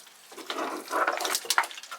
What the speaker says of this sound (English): Give that a little squirt of water around there.